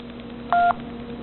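Single short electronic tone from a Sciphone i68+ handset as its USB cord is plugged in, a clean beep of about a fifth of a second over a faint background hum.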